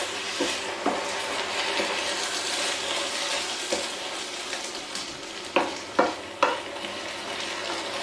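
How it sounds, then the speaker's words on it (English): Bolognese sauce being stirred in a pan, a steady low sizzle and bubbling with occasional scraping knocks of the spoon against the pan, close and continuous with no talking. "you get to stand and watch me just stirring the pan for quite a while"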